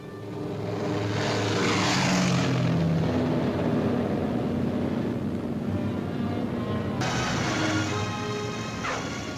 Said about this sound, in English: Morgan buzzes the field, cuts the grass with the giant fortress